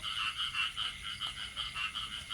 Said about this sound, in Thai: ได้นอนฟังเสียงเขียดเสียง กบ ไม่มีกบนะครับมีแต่เขียด